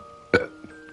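A single sharp hiccup from someone who has just eaten ghost pepper ramen: one brief, close burst in an otherwise quiet moment.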